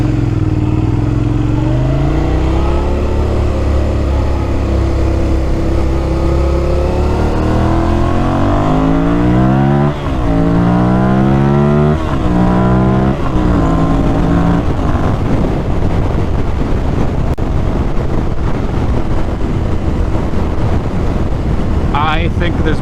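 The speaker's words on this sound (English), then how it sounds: "I just want to get up into higher RPMs and see if anything weird is going on" A Suzuki SV650 motorcycle accelerates hard through the gears toward high RPM, its engine note climbing repeatedly in loud sweeping rises with gear changes, accompanied by heavy wind rush.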